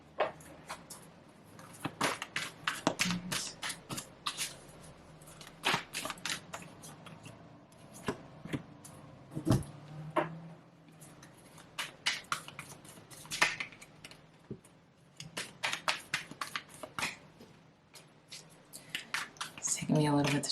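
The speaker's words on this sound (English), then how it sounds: "It's taking me a little bit to shuffle." Tarot cards being shuffled by hand, close up: a long run of quick, soft papery flicks and snaps in irregular bursts, with a faint low murmur beneath.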